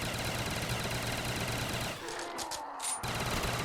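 Rapid bursts of pistol gunfire in the Call of the Dead zombie mode of a video game, dense and continuous at first, then a short lull broken by a few more sharp shots.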